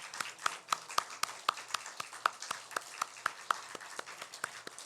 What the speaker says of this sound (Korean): 우리 다 나올 때까지 우리 박수.